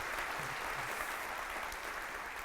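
A church congregation claps together in a dense, even patter that carries on without a break at moderate level, with no one speaking over it.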